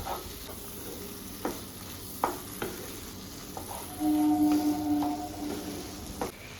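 Mixed vegetables fry in a kadai, giving a steady close sizzle, with occasional scraping knocks of a stirring spoon and a louder hissing swell midway through, no talk.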